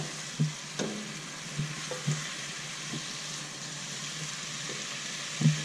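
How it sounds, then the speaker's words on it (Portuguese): Banana peel sautéing with browned garlic and onion in a pan, a soft continuous sizzle under a few light utensil knocks and scrapes spaced seconds apart, close but fairly quiet, with no speech. "Depois que o alho e a cebola Já dourou um pouquinho, a gente acrescenta a banana para refogar essa casca"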